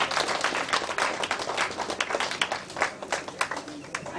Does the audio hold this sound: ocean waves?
no